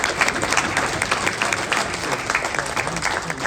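A crowd at a boxing press conference in Manchester applauds in a steady wash of many hands clapping, sustained and fairly loud for several seconds without a break.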